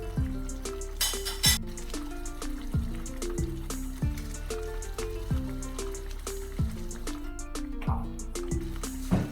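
Butter chicken gravy boiling in a pan over a high flame, close, steady thick bubbling and plopping with wet pops repeating throughout.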